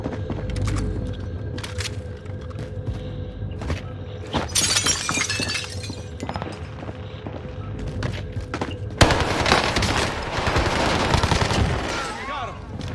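Bursts of assault rifle fire in a Call of Duty Warzone resurgence match, with scattered shots early and a dense, loud volley in the final seconds over game ambience and brief voices.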